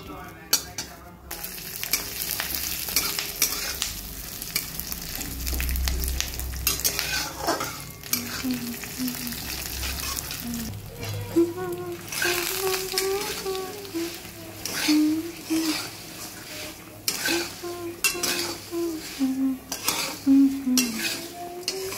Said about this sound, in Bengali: এই দেখো অল্প কটা বাদাম একটু শুকনো করে আগে ভেজে নিচ্ছি, তারপর তেল দেবো।